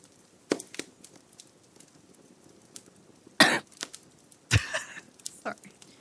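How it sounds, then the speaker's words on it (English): A person coughs during a bonfire scene, with a few scattered short coughs and then two louder, sharper bursts of coughing at close range. "Journey begins to cough."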